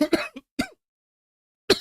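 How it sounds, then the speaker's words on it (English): A person coughs and clears their throat, a few short harsh bursts close to the microphone in a quiet room, followed by a pause and one more cough. "I've got this horrible cough"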